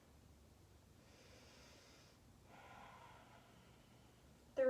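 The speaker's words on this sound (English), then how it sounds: "try to keep them long, slow breaths" Slow breaths in and out during a yoga forward fold in an Ashtanga session, two soft airy breaths one after the other, quiet and close, with a sharp brief knock at the very end.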